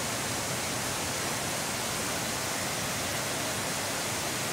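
Flowing water of the Caño Veralejo river, a steady, dense rushing wash that runs unbroken and fairly close throughout, with no voices.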